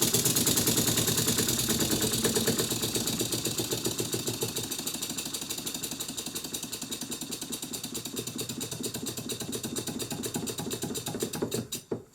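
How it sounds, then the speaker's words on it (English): A Stuart Grasshopper model beam engine runs with a fast, steady mechanical clatter that stays loud and close before stopping abruptly at the end. "The engine runs quite well"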